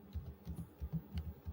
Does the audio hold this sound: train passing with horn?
no